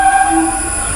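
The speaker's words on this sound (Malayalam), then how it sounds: "train go away" Passing train sounding a loud, sustained multi-tone horn close by over a low rumble of the rail cars, lasting about a second.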